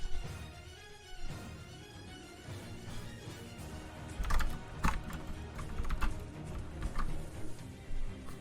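Someone types on a computer keyboard while playing Raid Shadow Legends, a slightly faulty, wacky keyboard. The keys give quiet, irregular clicks and taps up close, in loose bursts that grow busier toward the end, over a faint background.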